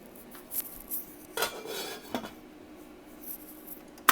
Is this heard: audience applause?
no